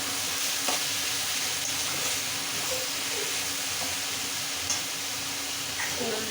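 Prawn and ivy gourd curry fries in a pan with a continuous loud sizzle, broken by occasional soft stirring knocks.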